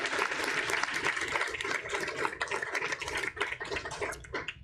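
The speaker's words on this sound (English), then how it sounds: "Let's give them another great big round of applause." Applause from an audience at a Board of Trustees meeting: dense, fairly close clapping that continues unbroken for several seconds with faint voices mixed in.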